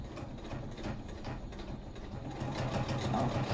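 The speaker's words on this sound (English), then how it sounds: "is the machine going? Oh, must be a Janome machine." A Janome sewing machine hums and clatters at a steady pace while stitching a narrow rolled hem through layered fabric, its needle ticking evenly and close by with no voices.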